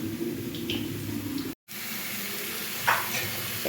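Potatoes frying in a pan, a steady soft sizzle close by with low background hum and a brief dropout, plus a few faint clinks.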